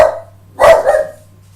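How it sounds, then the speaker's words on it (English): A dog barks indoors, close by, in an escape-room setting. A short yip is followed by a louder double bark over a low steady hum. "Milo the Wonder Dog, our protector."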